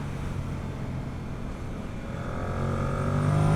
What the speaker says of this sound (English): when you ride it on the road like this, when you open the throttle, it's all forgiven